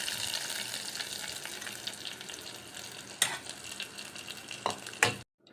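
Onion and curry leaves hiss and crackle in hot oil as a tempering for banana stem kootu, a continuous close sizzle with a few sharp pops and stirring clatters before it cuts off.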